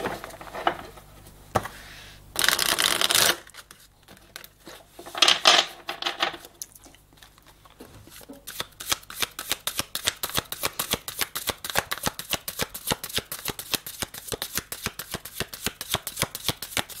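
A deck of tarot-style cards being shuffled for a reading: a few loose riffles and slides at first, then a long, steady run of quick crisp card flicks, close and clear with no talking.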